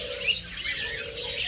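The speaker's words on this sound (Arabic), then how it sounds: "هذا حمام الفاكهة" A fruit dove calling at a bird and gazelle reserve, a short soft cooing note amid light background chirps, brief and moderately near.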